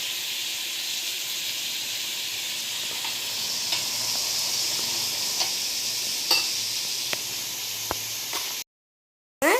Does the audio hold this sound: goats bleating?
no